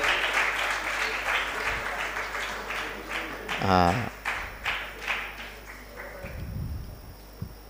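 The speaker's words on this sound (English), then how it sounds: "Give a big round of applause to Pratik sir." An audience at an educational mentoring program in Mumbai applauds a speaker with scattered clapping, while voices and some tapping or footstep-like sounds mix in.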